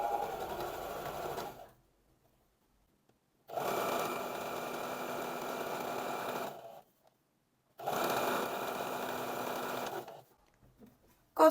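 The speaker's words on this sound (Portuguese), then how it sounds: "E vou continuar a costurar normal." Sewing machine stitching the front pocket of wide-leg palazzo trousers, three steady close motor runs of a few seconds each, separated by short silent pauses.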